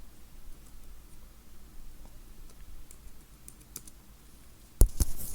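Keys clatter on a computer keyboard in quick, light, irregular taps as a name is typed during a Windows 11 install setup, close and fairly quiet, ending in a couple of sharper, louder clicks.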